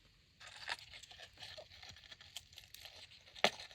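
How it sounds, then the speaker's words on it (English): Scissors snip through the thin metal of a tart tin being trimmed for a craft ornament: quiet, close crinkly cuts and crunches, with one sharper snip near the end and no talking. "You're going to want to take some scissors and just trim that extra."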